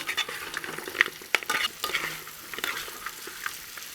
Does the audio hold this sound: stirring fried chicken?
yes